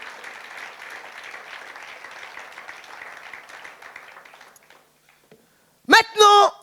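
Congregation applause at a church service fills the space with steady, moderate clapping that gradually thins out and fades, followed by a short burst of voice once it stops.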